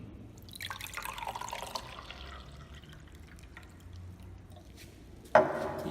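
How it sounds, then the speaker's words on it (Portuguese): Water poured into a container during a light refraction experiment with a pencil, heard as soft dripping and trickling with a brief louder splash near the end, close by and without talk. "Então agora eu vou colocar a água, né?"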